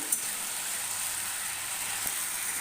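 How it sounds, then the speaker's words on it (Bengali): Ginger-cumin paste sautés in hot oil for a Bengali shukto, making a soft, steady sizzling hiss with a few faint pops. No one speaks. "এটা ভালো মতন কষিয়ে নিই।"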